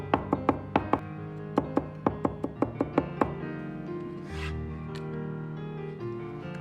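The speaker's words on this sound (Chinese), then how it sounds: "大蒜2颗，先拍破，然后再剁成蒜泥，稍微剁细一点" Two cloves of garlic being minced into a paste with a cleaver on a board, a fast run of sharp, close knocks that stops, then a softer scraping rub.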